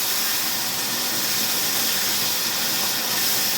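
Tamarind water hitting a hot tempering in a pan, giving a steady, loud hiss that sizzles without pause and without voices.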